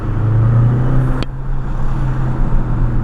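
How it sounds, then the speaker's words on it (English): Petrol hybrid turbo engine of a Mercedes-Benz GLB 161 HP heard from inside while driving, a steady low drone with a brief high whistle-like spike mid-clip, continuous and moderately loud. "The turbo noises this car makes."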